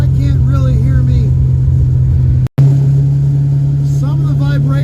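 A car engine idles with a heavy, steady low drone and exhaust vibration, broken by a brief cut partway through, while someone talks over it.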